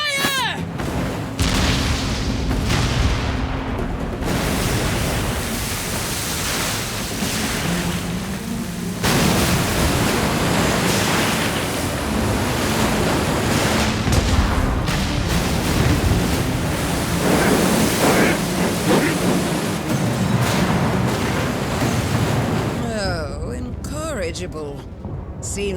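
Ship cannons booming in a naval battle in Like a Dragon: Pirate Yakuza in Hawaii, heavy repeated blasts and roaring surf-like rumble filling the whole stretch, with brief voices among the din.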